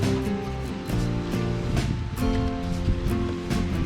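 Waterfall near a reservoir in a national park setting: a dense, continuous rushing water roar, loud and steady, with no voices.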